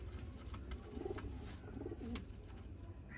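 Sialkoti pigeons at a breeder's loft give soft, repeated low coos over a steady background murmur, with faint clicks and rustles throughout.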